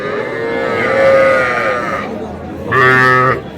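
Young bull calves low and moo at a busy cattle market, two drawn-out calls separated by a short pause, close and fairly loud over a murmur of crowd noise.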